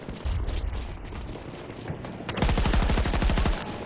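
Full-auto rifle fire in Battlefield 2042 gameplay, a long rapid burst of evenly spaced close, loud shots after a short earlier volley, with almost no talk.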